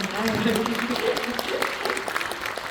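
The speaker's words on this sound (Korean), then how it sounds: "다 함께 박수를 치면서" An audience applauds together at a screening talk event for a concert film, steady clapping from a crowd running beneath a voice that carries on speaking over it.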